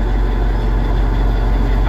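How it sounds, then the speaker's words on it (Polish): A tour boat's engine running below deck at departure off Lefkada, a loud, steady drone with a rhythmic low throb, continuous and close, with voices faintly mixed in. "A tu mamy silnik pod spodem."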